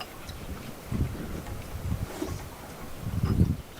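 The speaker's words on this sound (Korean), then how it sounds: "바람 소리 저기 어떻게 들리니" Gusty wind blows around an old house in a remote rural village, low buffeting rumbles rising and falling in several bursts, with rustling noise against the microphone.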